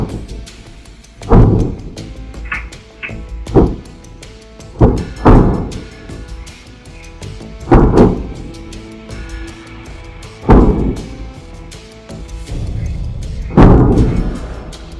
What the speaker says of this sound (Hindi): तभी धमाकों की आवाजें आने लगती हैं